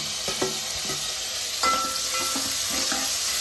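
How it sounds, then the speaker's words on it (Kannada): Oil crackles and sizzles loudly as curry leaves are fried with onion, with a spoon scraping and stirring in the pan. "ಈಗ ಇದಕ್ಕೆ ನಾನು ಕರಿಬೇವು ಹಾಕ್ತಾಯಿದ್ದೀನಿ"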